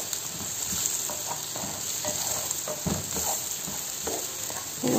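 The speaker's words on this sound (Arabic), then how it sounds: "حتى لو الطماطم اقليها بزيت هذا الباذنجان" Tomatoes frying in oil left over from eggplant, a close, steady sizzle with repeated stirring scrapes and soft clacks throughout.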